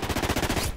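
Rapid automatic gunfire in Call of Duty Ghosts on the Flooded map, a steady burst of close, loud shots fired in quick regular rhythm, with no talking over it.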